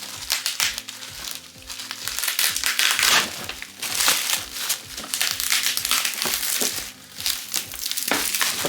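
Bubble wrap crinkles and crackles continuously as a large quarter-scale Jungle Hunter Predator action figure is slid out of its packaging, with loud, close, irregular crunching and popping throughout.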